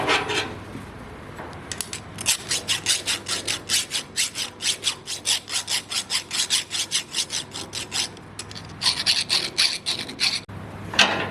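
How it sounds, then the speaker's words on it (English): A hand file works burrs off a metal trunnion part for a C10 Chevy truck tailgate, with steady back-and-forth rasping strokes in a regular rhythm, loud and close, pausing briefly before a final few strokes, with no talk. "So we took a file and just started to open it up a little bit."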